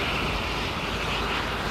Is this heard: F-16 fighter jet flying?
yes